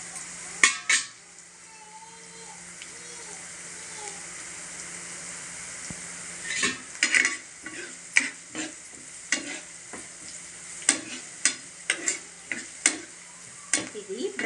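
Onion pieces and green chillies fry in a pan, with a low sizzle under a series of sharp spatula scrapes and clinks that come in bursts during the second half.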